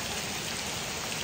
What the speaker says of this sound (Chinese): 你看这房子漏雨啊。